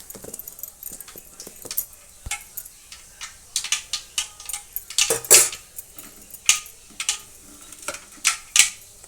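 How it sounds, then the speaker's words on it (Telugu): Mustard seeds and cumin crackling in hot oil as a mutton fry begins, with scattered sharp pops and spits over a faint sizzle, growing busier and louder midway with occasional utensil clinks. "కొంచెం ఆవాలు జీలకర్ర వేసినానండి నూనెలో."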